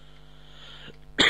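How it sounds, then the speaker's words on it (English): A single sharp cough bursts out near the end, close and loud, after a stretch of low background hum. "I hope this cough goes away soon."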